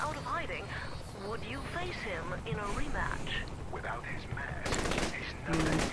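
Bursts of automatic gunfire from the Saints Row: The Third video game crackle beneath continuous overlapping talk, with louder rapid volleys near the end.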